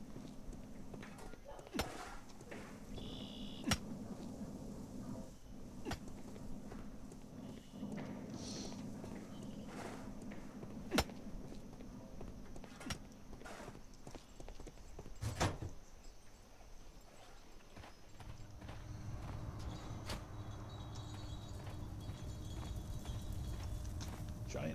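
Faint, steady clip-clop of a large horse's hooves walking at a slow pace in the video game Sherlock Holmes: The Devil's Daughter, with occasional sharper knocks and a low background hum.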